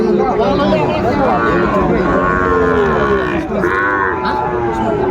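Sahiwal cattle mooing close by at a farm in Gazipur, long drawn-out lowing calls one after another over a background of murmuring voices.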